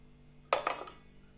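Three small garlic cloves smashed in a home kitchen, heard as a close, sharp cluster of two or three quick knocks with a faint clatter, then quiet.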